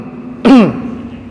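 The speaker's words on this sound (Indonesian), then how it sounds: "cara untuk menuntaskan itu berdehem" A single throat clearing, loud and close, one short rasping burst over a quiet background hum.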